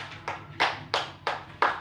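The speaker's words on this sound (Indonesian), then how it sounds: "Beri tepuk tangannya untuk temannya." A few classmates clap for a student in a classroom, five or six short bursts of hand claps spaced irregularly, fairly close and moderately loud, with no talking.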